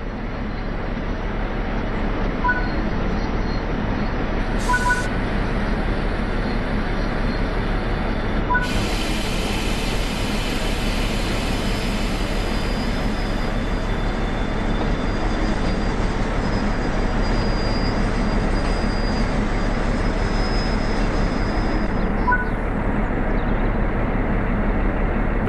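Simulated DB G6 locomotive braking in Train Sim World 3 on the Rhein-Ruhr Osten route, a steady loud rumble with air-brake hiss bursts and a high brake squeal building as the train slows to a halt, no talking.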